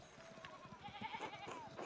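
Sheep bleat in the video game Pentiment, a few short wavering calls over a quiet farmyard background, faint and brief.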